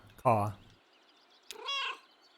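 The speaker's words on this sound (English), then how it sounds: "Friendly meow." A cat in the video game Kentucky Route Zero gives two friendly meows about a second apart, the first lower and fuller, the second brighter and rising, both clear and close.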